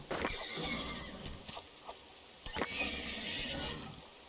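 A horse whinnies in the survival strategy game Dawn of Man, with a few shrill neighs and snorts over a quiet background of game ambience and faint hoof sounds.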